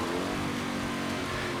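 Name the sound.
cars revving in SpongeBob Battle for Bikini Bottom video game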